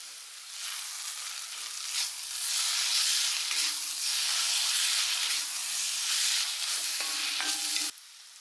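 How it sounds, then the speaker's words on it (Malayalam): Masala sautéing for chicken curry in a pan, a steady sizzle and hiss of frying with scraping stirs and occasional spatula clinks against the metal, close and continuous. "ഇതും നല്ലപോലെയൊക്കെ എന്നിട്ട് വഴറ്റിയെടുക്കാം"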